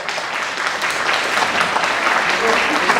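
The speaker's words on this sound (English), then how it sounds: "I request our ladies and gentlemen, all of us to clap together" An audience at a deafblind conference claps together during a book inauguration, a dense, steady wash of applause filling the whole stretch.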